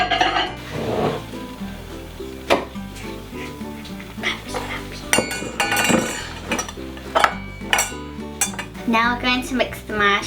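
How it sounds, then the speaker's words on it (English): A spoon scrapes and clinks against a bowl while melted marshmallows are stirred, with busy kitchen clatter and background music throughout. "Now we're going to mix the marshmallows"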